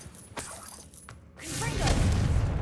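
A Revelio spell cast in the video game Hogwarts Legacy: after a few soft clicks and a brief hush, a shimmering magical whoosh swells up and holds loud, with no talking.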